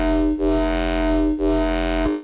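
Heavily processed synth bass, a faked Reese with compression and distortion plus a clean sub layer, drones loud and thick with rich buzzing harmonics, retriggered in two brief dips before cutting off.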